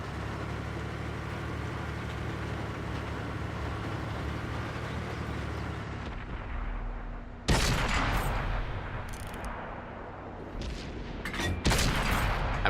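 Panther tank cannon fire in World of Tanks, with a steady engine rumble giving way to two loud, sharp blasts a few seconds apart, each followed by a rolling decay.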